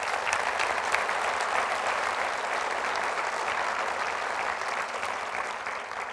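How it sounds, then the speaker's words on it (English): Dense, steady applause from a large audience at a mayor's State of the City address, filling the room evenly for the whole stretch and tapering slightly at the end. "Would you please just give them a round of applause?"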